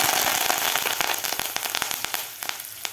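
Curry leaves hit hot oil with browning garlic, giving a loud, dense crackling sputter with sharp pops that settle slightly over a few seconds.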